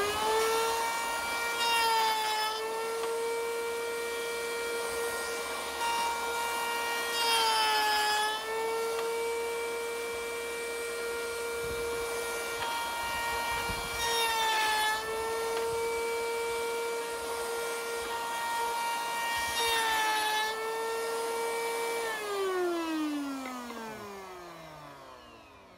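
A wood router cuts the edge of a wooden name: a loud, steady motor whine alone, dipping in pitch at several moments as it bites into the wood, then spinning down near the end.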